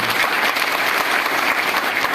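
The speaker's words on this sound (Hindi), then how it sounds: "एक बार जोरदार ताली बजाइए।" A crowd claps loudly and steadily at a DXN company product presentation, the dense applause running unbroken throughout.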